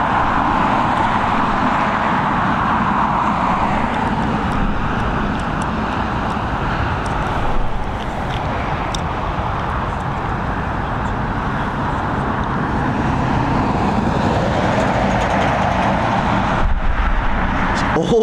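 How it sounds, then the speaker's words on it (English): Heavy lorries rolling past close by on a road near Dublin Airport, a steady broadband traffic roar with swells as each vehicle passes, mixed with distant jet noise and occasional talk. "almost as if the lorries planned their journey past us"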